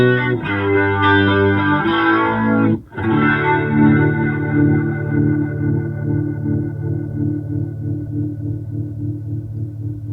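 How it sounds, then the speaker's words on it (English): Electro-Harmonix Lester rotary speaker emulation pedal run with a compressor, shaping sustained chords and notes with a swirling, warbling rotary modulation; loud and continuous, with a brief break before the tone settles into a steady pulsing shimmer. "Now I'm going to put on a compressor, and you're going to get basically almost the same sounds as the Lester G."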